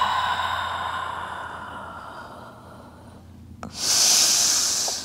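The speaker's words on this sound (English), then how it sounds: "We exhale." A long, steady exhale during a mat Pilates hip exercise, heard close and alone as a soft airy rush. It fades gradually, then a stronger breathy hiss swells near the end.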